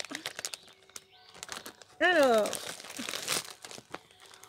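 Plastic packaging crinkles and rustles as it is opened, with someone speaking quietly around the bursts of crackling.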